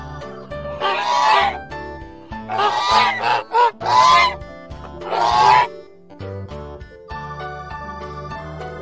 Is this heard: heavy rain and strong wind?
no